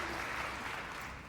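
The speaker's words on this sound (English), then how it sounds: "you can keep clapping and I'll stop talking" Steady applause from an audience at the Goldman Environmental Prize ceremony, a dense wash of clapping held at constant loudness throughout, with no talk over it.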